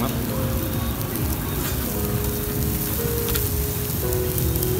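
Pork sizzles on a grill at a broken-rice (cơm tấm) eatery in Hồng Ngự, Vietnam, making a loud, dense, continuous crackling hiss with faint voices in the background.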